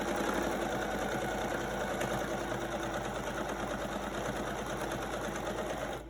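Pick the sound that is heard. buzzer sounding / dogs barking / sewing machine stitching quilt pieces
sewing machine stitching quilt pieces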